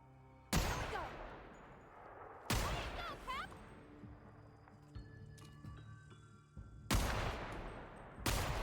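Gunfire from a Deadeye weapon in The Outer Worlds, with several loud, sharp broadband blasts spaced a few seconds apart over quieter game ambience and faint background sounds.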